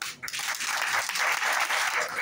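Audience at a comedy club applauds in a dense, sustained burst of clapping that fills the room at moderate loudness, rising quickly after a brief pause and continuing steadily without talk.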